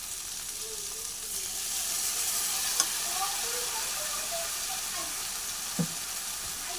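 A ground spice paste sizzles and hisses steadily in hot oil for a pigeon curry, with two brief clinks of a utensil against the pot along the way.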